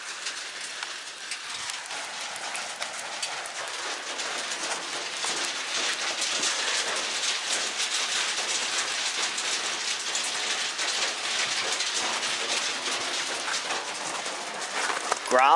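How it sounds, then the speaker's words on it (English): Graupel, small snow pellets, pattering steadily outside a geothermal greenhouse in early spring, a dense hiss of tiny impacts that holds fairly even and swells slightly partway through. "This is Graupel. It's like little snowballs."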